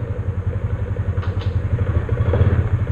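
A Honda Biz 125 motorcycle running on ethanol fuel idles roughly up close with a loud, uneven chugging pulse, swelling slightly as it is revved and struggling rather than climbing cleanly.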